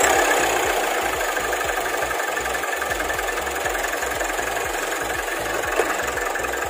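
A Nissan NV350 van's engine idling steadily after starting, with a low rhythmic knocking pulse under a constant hiss, fairly quiet and close.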